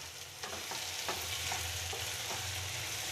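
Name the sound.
aloo muttar curry with tomato and peas frying in pan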